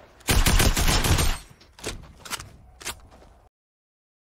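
A rapid burst of gunfire in the video game Fortnite opens loud and close, followed by a few scattered single shots before sudden silence.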